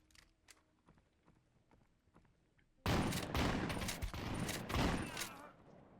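A sudden, loud burst of rapid gunfire from a scav in the video game Exfilzone cuts in after a quiet stretch of faint clicks and footsteps, then continues as dense, echoing shots.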